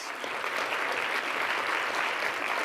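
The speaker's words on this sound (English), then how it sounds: "Round of applause, round of applause." Dense, sustained audience applause at a climate conference, many hands clapping together in an even wash of sound, fairly distant and steady from start to end.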